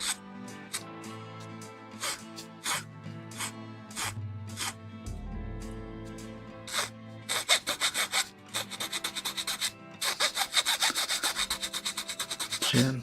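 A plastic part from a 1/144 HG Bandai MSM-04 Acguy Gunpla kit being filed in seesaw strokes, giving repeated scratchy rubs, sparse at first, then rapid and steady, close and moderately loud with no talk.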